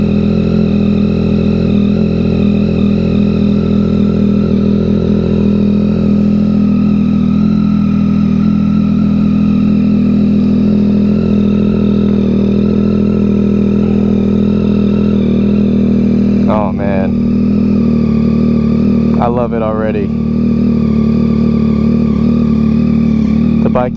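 A 2022 Yamaha XSR900 fitted with a Kelpi Custom Moto shorty exhaust idles loud and close, a steady deep engine drone throughout with a couple of brief rev blips near the end, while someone talks over it.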